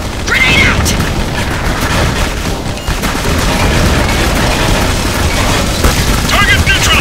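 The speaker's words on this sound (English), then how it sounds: "Grenade out!" A grenade blast in the game Jericho rumbles amid dense, continuous combat noise of booms and gunfire, loud throughout, with shouted voices and chatter over the din.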